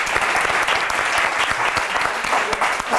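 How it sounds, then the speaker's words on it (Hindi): An audience at a weekend show applauds, a dense and loud wash of clapping that holds steady from start to finish with no speech over it. "मुजाहिद हुसैन साहब के लिए भी तालियां हो जाए भाई"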